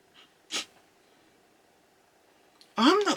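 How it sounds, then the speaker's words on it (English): A person sniffs at a lidded fragrance container, with one short sharp inhale early on and a louder, longer snuffling breath near the end, close to the microphone in a quiet room. "I've closed the lid and I'm trying to sniff it"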